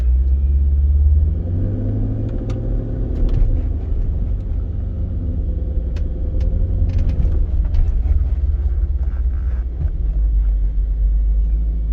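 A 2012 Jeep Grand Cherokee SRT-8 engine drones loud and steady while driving, with a heavy low rumble throughout and faint clicks and rattles from the cabin.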